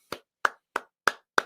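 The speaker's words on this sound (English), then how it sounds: "round of applause" A single person clapping five times in an even, slow rhythm, each clap sharp and close with silence between, no voices.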